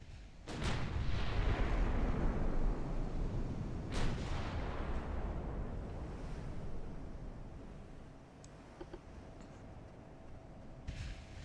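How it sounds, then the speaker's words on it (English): Heavy lyddite high-explosive shells fired from 13-inch naval guns in Ultimate Admiral: Dreadnoughts, deep booming blasts over a rolling, surf-like rumble, with a few sharper cracks, loud and broad. "I love those lyddite shells, the heavy lyddite shells"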